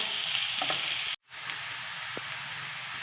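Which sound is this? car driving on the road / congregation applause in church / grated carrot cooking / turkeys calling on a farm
grated carrot cooking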